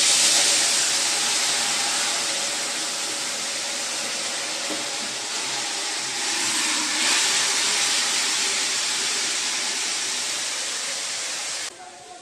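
Pressure cooker boiling vegetables lets out a loud, steady steam hiss that runs unbroken close by and cuts off abruptly near the end.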